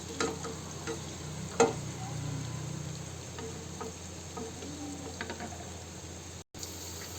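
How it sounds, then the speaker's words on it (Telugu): Paneer frying in a pan until light golden sizzles quietly and steadily, with occasional light taps and scrapes of a utensil. No voice is heard. "లైట్ గోల్డ్ కలర్ వచ్చేదాకా ఫ్రై చేసుకుందామండి"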